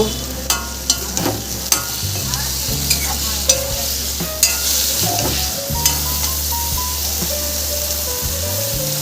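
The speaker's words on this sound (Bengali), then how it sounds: "করলাটাকে একটু নুন আর হলুদ দিয়ে নাড়াচাড়া করে নেব।" Bitter gourd stir-fried with salt and turmeric hisses steadily in a hot pan, with regular sharp clicks of a spatula tossing the pieces and a low hum underneath, heard close and alone without talk.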